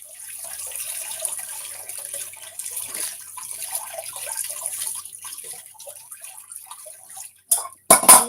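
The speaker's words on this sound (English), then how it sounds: "So I'm running cold water on it." Cold tap water runs steadily over goat meat being rinsed in a sink, a continuous splashing hiss that breaks into a few louder, sharper gushes near the end.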